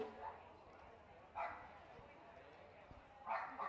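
At the Blackpool dog show, dogs in the utility group give a few short, fairly distant barks and yips, spaced apart over a low hall murmur, while a voice talks nearby.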